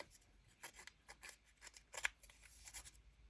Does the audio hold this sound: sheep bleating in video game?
no